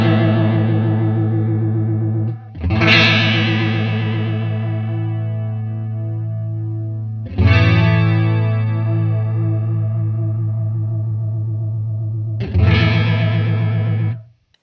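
Guitar run through a chorus pedal with its depth turned up deep, three strummed chords each ringing out for several seconds with a lush, wavering shimmer, loud and alone.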